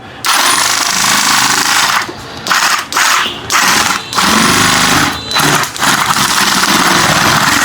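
A handheld sack sewing machine stitches a bag with a loud, close, buzzing mechanical whir that runs in long bursts broken by several short pauses.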